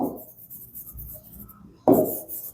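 Marker or chalk scratches across a classroom board in short strokes, with a soft rubbing passage followed by a sharper, louder scrape near the end, and no voice over it.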